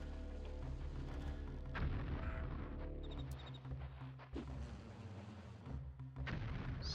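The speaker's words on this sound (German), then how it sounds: "Hinter mir explodiert es die ganze Zeit." Explosions in the pirate video game Pirates, repeated deep booms and rumbling blasts at irregular intervals over a continuous low background, fairly faint overall with no speech.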